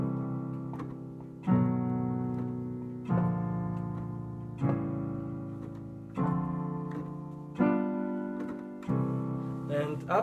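Jazz intro chords on piano, struck about every one and a half seconds, each sustained chord ringing and slowly decaying before the next, played alone with no voice.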